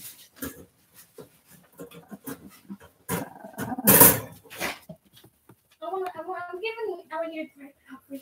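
Up close, a dog gives low growls and grumbling snorts, with bursts of people talking around it.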